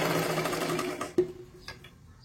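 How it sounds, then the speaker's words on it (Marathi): An electric sewing machine stitches a katori blouse with a steady, fast whirring run that stops abruptly, followed by a couple of faint clicks in a quiet room. "इथे एक शिलाई मारून घ्या"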